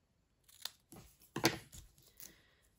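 Scissors snip through paper scraps in four or five short, crisp cuts, close and fairly quiet with brief pauses between them.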